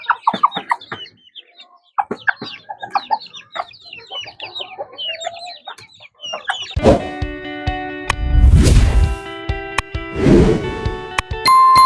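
Backyard pet chickens at feeding time, clucking and chattering in a busy overlapping flock, with close, louder bursts of movement and scratching near the end.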